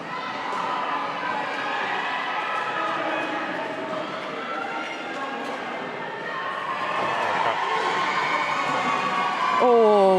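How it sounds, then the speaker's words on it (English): A crowd at a Five Nations roller derby bout between Newcastle Canny Belters and Sheffield Steel cheers and shouts continuously, a dense roar of voices swelling toward the end. "some big cheers going around there as Kirk picks up those points"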